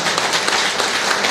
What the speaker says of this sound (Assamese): জোৰকৈ হাত চাপৰি দিয়ে।